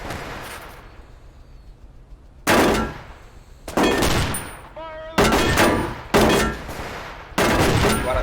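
Heavy bursts of gunfire in The Division 2 boom repeatedly, five or six loud volleys separated by short lulls, each with a ringing tail, over a faint background.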